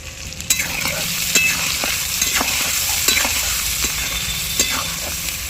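Potatoes frying in oil with salt and turmeric: a steady sizzle with a spatula scraping and stirring now and then, close up and fairly loud, no voices.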